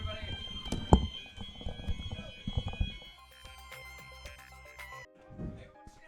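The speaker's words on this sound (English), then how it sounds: "Is that a fire alarm going off in the building?" A fire alarm sounds inside a building, a steady electronic tone running through the clip under loud talk and a thump near the start, then quieter room noise.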